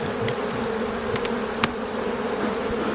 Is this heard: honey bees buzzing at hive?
yes